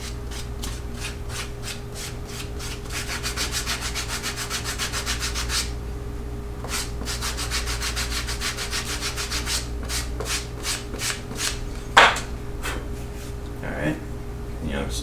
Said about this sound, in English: So just take some sandpaper, you know, even this out.